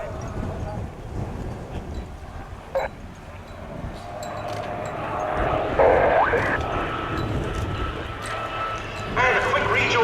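Display aircraft flying synchronised turns at the Duxford air show: a steady mid-distance engine drone that swells toward the end, heard under continuous commentary and crowd noise.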